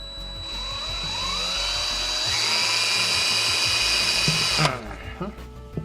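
A small power drill fitted with a 0.75 millimeter bit whines loudly and steadily close by, its pitch rising as it spins up, then cuts off abruptly near the end, leaving quiet clicks.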